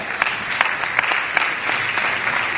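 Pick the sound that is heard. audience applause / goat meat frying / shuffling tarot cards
audience applause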